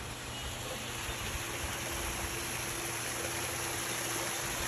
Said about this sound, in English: Use the water feature.